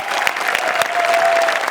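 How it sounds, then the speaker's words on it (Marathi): Loud, dense applause from a comedy show audience, many hands clapping together in a continuous, even wash close at hand. "जोरदार टाळ्या"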